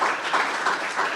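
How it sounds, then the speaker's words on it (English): Audience applause at a morning civic gathering on downtown affordable housing, a dense, steady clapping that stays loud and close for the whole short stretch with no talk over it. "would you give Leah a huge round of applause?"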